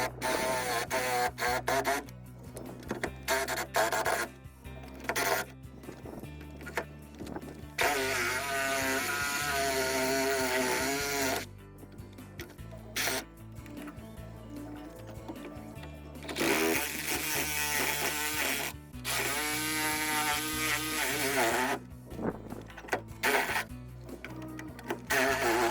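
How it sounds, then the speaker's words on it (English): A power tool blade plunging into and cutting through fiberglass during restoration of a mostly sunken boat, a loud steady buzzing whine in long sustained passes with brief pauses between cuts. "here you can see how we plunge the blade into the fiberglass and let the machine do the rest"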